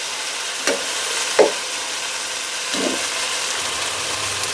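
Ground tomato sautéing in oil with mint and coriander leaves makes a constant, loud sizzle up close, with a few soft stirring scrapes from a spoon in the pan.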